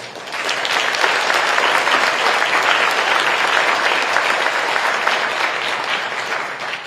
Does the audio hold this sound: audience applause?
yes